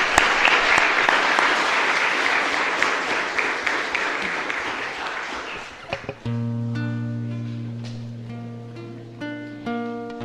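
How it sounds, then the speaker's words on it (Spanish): A church congregation applauds loudly during a chapel novena service in honor of Saint Aloysius Gonzaga; dense clapping fills the first six seconds, then gives way to sustained organ or keyboard chords. "Un fuerte aplauso a nuestra comunidad."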